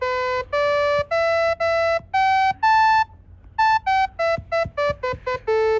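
A collapsed five-note Ito scale played as clean, bright electronic tones, a run of distinct sustained notes that shift pitch, some repeated, ending in quicker, shorter notes.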